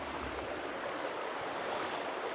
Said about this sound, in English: that river sounds very noisy